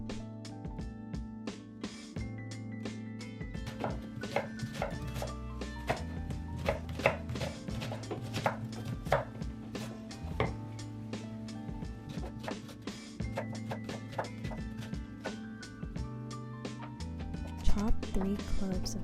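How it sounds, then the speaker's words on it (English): A knife chops a yellow onion on a board in brisk, repeated cuts, steady and close, in a home kitchen while a pot cooks on the stove. "Chop a yellow onion."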